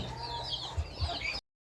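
Large ducks on a farm in Mindanao, Philippines, giving a few short low quacks and clucks over a steady outdoor background with faint bird calls.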